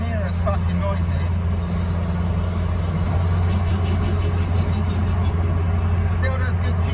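A 1.8T-swapped Toyota MR2 with a custom intake airbox cruises at road speed, its steady engine and road rumble running throughout, with several rapid turbo flutter 'choo-choo' bursts chattering near the end.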